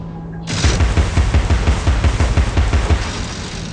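Rapid, evenly spaced gunfire from a weapon in the video game Alice: Madness Returns, a loud burst of repeated shots lasting several seconds and heard alone with no talking.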